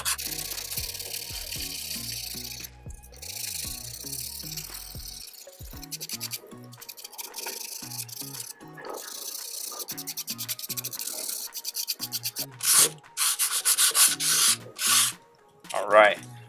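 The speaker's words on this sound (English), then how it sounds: "Now we're going to go with the thinnest of the sandpaper." Hand sanding a carbon fiber repair with 220 grit sandpaper gives close, rasping strokes in uneven bursts, growing louder and more vigorous toward the end with brief pauses between.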